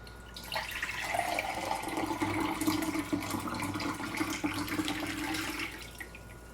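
Water poured from a measuring cup into a hookah base, a steady close splashing and gurgling pour lasting several seconds before tapering off.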